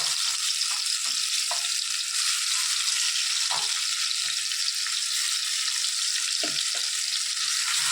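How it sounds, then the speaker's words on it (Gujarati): Constant loud sizzling of hot oil tempering spices, onion, garlic and chillies, a dense hiss with a few soft clanks of a utensil, no voices. "ડુંગળી, લસણ, મરચાં, લીંબુ, બધું નાખીને આપણે વઘાર કરીએ."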